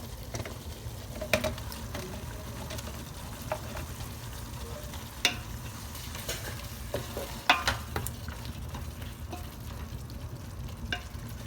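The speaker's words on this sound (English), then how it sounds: "And then I'm putting in the tomato." Tomato goes into a pan where brinjal and green and red chilies are frying, giving a quiet, steady sizzle with scattered light clicks and taps from stirring, and no voices.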